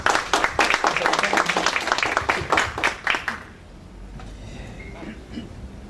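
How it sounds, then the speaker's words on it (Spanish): Applause from an audience at an agricultural professional event for an engineer, a dense burst of many hands clapping for about three seconds, then fading to quiet room murmur. "Aplauso, por favor, para el ingeniero."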